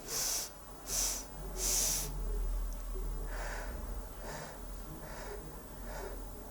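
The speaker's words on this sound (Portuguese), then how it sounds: "fazer essa respiração, que é inspirar em 3 e expirar em 5" Slow, paced breathing exercise for panic relief: three loud, airy breaths early on, then softer, longer exhalations trailing off, heard close and alone without talk.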